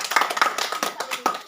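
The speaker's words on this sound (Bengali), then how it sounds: "এটি বড় হাততালি" Applause at a village food-game competition prize giving, a short burst of several hands clapping unevenly, close and fairly loud, with voices mixed in.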